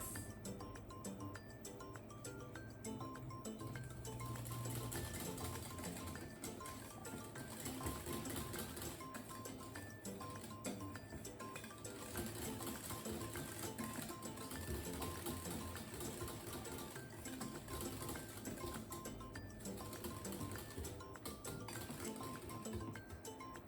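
An electric mixer beats matcha green tea cheesecake batter in a bowl, a steady continuous whirring hum with faint clinks, running unbroken and close for the whole stretch.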